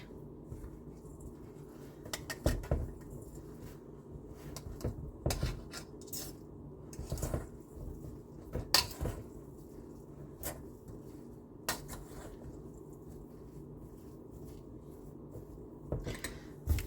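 A spoon scrapes and clinks against a dish while spaghetti squash bake is stirred together with Parmesan cheese; irregular close taps and scraping strokes come in bursts with quiet pauses between, and no one speaks.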